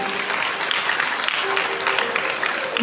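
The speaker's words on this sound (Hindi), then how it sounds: "ताली बजाओ अपने लिए।" An audience applauds after a spiritual lecture in Hindi, with steady, dense clapping throughout at moderate volume and a brief sound at the very end.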